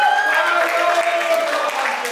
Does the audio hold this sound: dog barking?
no